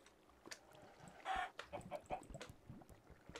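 Chickens clucking in the Minecraft video game, short game-sound clucks scattered through the clip, with a louder burst near the middle among other busy game noises.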